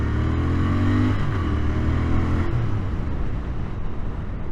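A Royal Enfield motorcycle engine revs steadily up close, a throaty, continuous drone that climbs in pitch over the first couple of seconds and then settles into a sustained rumble with no voices.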